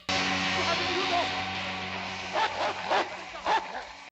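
In the 1977 horror film Suspiria, a dog attacking its owner gives several short, sharp barks and yelps near the end, over a low droning film score.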